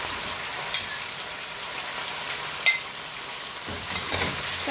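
Chicken breast for pancit sotanghon fries in a pan beside golden-browned aromatics, giving a steady close sizzling hiss with a few faint clinks of a utensil.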